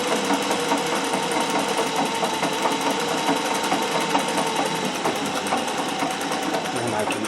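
A Singer 411G sewing machine fitted with a custom balance wheel is driven by a treadle. It gives a steady, close mechanical whirr with rapid needle clatter that runs continuously throughout, with no pauses.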